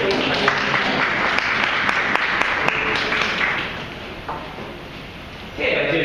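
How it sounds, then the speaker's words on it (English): Applause for debaters at a world schools debate championship, a crowd clapping loudly and steadily with a few sharper individual claps, gradually thinning out before a brief rustle and a voice at the end. "Can I have a round of applause again"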